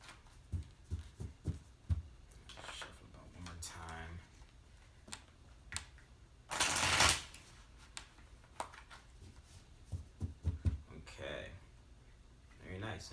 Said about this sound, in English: Let me give this deck a good shuffle